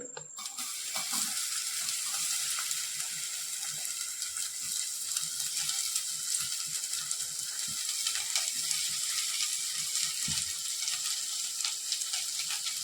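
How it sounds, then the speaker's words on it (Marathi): Onion sizzling and frying in hot oil for a dhaba-style paneer masala, a steady dense crackle that runs throughout with no voices. "त्यानंतर आपण त्याच तेलात जो कांदा घेतलाय तो टाकून घेऊ"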